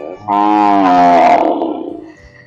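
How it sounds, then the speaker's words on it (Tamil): Cattle on a mango farm give a single long, loud moo close by, a deep drawn-out bellow that rises, holds and trails off over about two seconds. "மாடு கத்துற சவுண்ட்லாம் பயங்கரமா கேக்குது."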